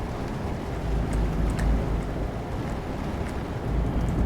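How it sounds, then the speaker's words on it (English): Heavy rain pelting a Mercedes truck cab while driving, a steady broadband roar over a deep low engine rumble with no talk. "this one is a heavy rain, so let's get some more wiper action here."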